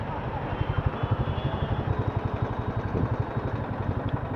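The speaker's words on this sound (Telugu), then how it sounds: "ఇప్పుడు ఇక్కడ నుంచి 2 సూపర్ బైకులు పోయినాయి" Engine noise from the road at night, a steady rhythmic pulsing rumble of a motorcycle nearby, where a pair of superbikes, a BMW S1000RR and a Kawasaki ZX-10R, pass by; the engine drone runs continuously without talk.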